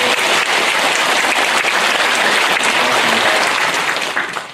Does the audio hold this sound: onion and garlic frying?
no